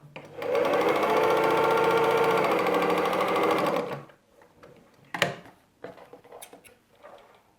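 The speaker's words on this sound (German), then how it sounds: "So nähen wir alle 4 Quadrate als eine lange Naht." A home sewing machine runs one continuous seam joining four patchwork squares, a steady fast mechanical whir for several seconds that then stops, followed by a few faint clicks and handling taps.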